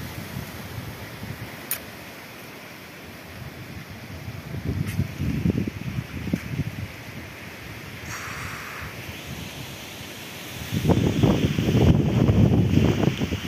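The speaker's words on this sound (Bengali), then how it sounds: "প্রচুর আকারে বাতাস হচ্ছে।" Strong gusts of Cyclone Remal buffet the microphone at night, a continuous rushing roar that surges louder in bursts, swelling hardest near the end, with no voices.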